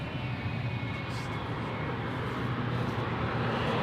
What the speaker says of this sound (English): Let's get some nice GE90 sounds.